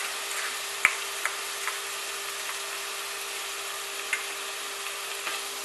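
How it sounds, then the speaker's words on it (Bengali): Onion frying with ginger garlic paste in a pan, a steady close sizzle with a few faint clicks of stirring, no talk. "ভালোভাবে মিক্সড করে এটাকে আরও কিছুক্ষণ ফ্রাই করবো যতক্ষণ না আনিয়নের কালারটা চেঞ্জ হয়ে আসবে"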